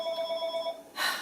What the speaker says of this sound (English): The phone has been ringing all day long.